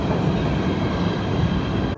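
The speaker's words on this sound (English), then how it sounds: "I absolutely love the idea of having the sound of the train that I take to work every day here in New Jersey" A New Jersey commuter train rumbling along, a loud, steady roar of wheels and carriages that cuts off abruptly at the very end.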